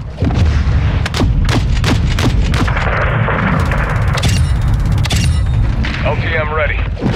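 Gunship missiles and gunfire boom in a Modern Warfare 2 Ground War match, a rapid series of sharp blasts and thuds over a constant rumbling drone, with radio-style game voices heard between the explosions.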